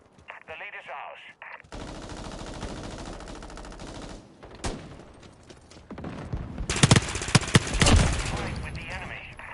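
Rapid machine gun fire in Call of Duty Modern Warfare, with loud bursts of automatic shots and heavier crackling volleys toward the end, over busy battle noise and game voice callouts.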